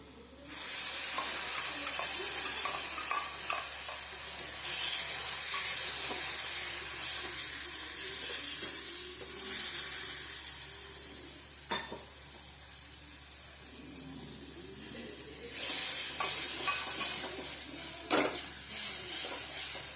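Rajasthani-style onion, garlic and red and green chili chutney masala fries in ghee while being stirred, making a strong continuous sizzle with swells and occasional scraping clicks of the spoon, with no talking.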